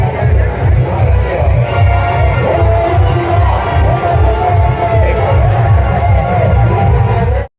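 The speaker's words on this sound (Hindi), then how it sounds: "तो दोस्ती अभी हम पहुँच चुके हैं मीना बाजार में और यहाँ के भीड़ भड़क देखो" Bustling crowd at the Meena Bazaar of a village fair, the Maa Dangneshwari mela: a loud, steady wash of many voices and general commotion, dense and continuous throughout.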